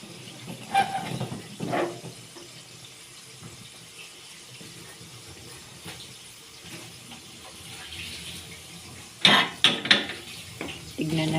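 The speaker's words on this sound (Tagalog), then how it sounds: "Ayan, kumukulo-kulo na. At pwede nang halo-haloin uli." Intermittent clinks and scrapes of a utensil stirring sautéed green beans with ground meat in a pan, with a low bubbling hiss between, a few louder clatters near the end.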